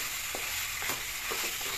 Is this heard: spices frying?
yes